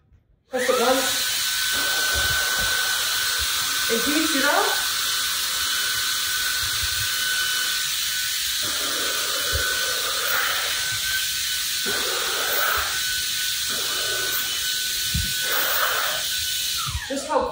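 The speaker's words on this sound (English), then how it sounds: "now I just pick up my little vacuum cleaner and get these coffee crumbs" A small handheld vacuum cleaner picking up coffee crumbs switches on and runs with a steady, close, high whirring hiss for a long stretch while a person talks briefly over it.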